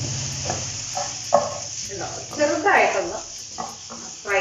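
Soya chunks frying in a pan, a steady close sizzle with stirring scrapes, under someone speaking.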